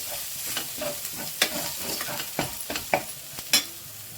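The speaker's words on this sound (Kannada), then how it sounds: "ಲೋ ಫ್ಲೇಮ್ ಇಟ್ಕೊಂಡು ಸ್ವಲ್ಪ ಫ್ರೈ ಮಾಡ್ಕೊಳ್ಳಿ" Red chili powder masala frying on a low flame for an egg gravy, a quiet sizzle broken by repeated spatula scrapes and taps against the pan, no talking.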